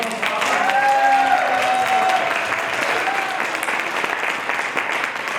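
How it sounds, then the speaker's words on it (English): An audience at a Kwanzaa celebration applauds performers in a loud, sustained wave of clapping with a few cheers and a voice briefly audible in the crowd. "Can we give it up for them one more time?"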